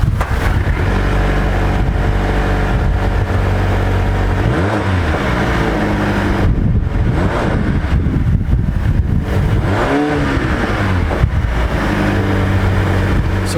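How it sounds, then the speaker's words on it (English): A 2020 Volvo V60 T8 Polestar Engineered plug-in hybrid drives with its 2-litre turbo and supercharged inline-four engine plus electric motor, giving a loud steady cabin drone with two rising and falling engine sweeps as it accelerates. "here's what the car sounds like"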